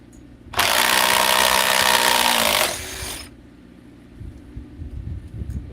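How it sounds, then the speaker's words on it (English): A small battery-powered impact wrench fires one loud, continuous burst of about two seconds, then winds down and stops, leaving quieter handling noises afterward. "This is a real little impact wrench."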